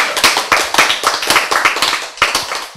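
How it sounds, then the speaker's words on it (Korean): Clapping from a church lecture audience, loud and close, a brisk uneven run of hand claps with a short pause near the end before a final few claps. "박수"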